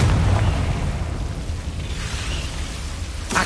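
A Confringo fire spell explosion in Hogwarts Legacy erupts as a loud, sustained low rumbling boom that fills the whole moment, fading slightly before a short burst near the end.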